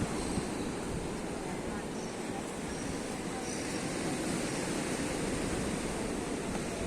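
Rough winter sea at Benidorm on a wet day, a constant broad roar of breaking surf mixed with wind buffeting the microphone, steady and fairly loud throughout.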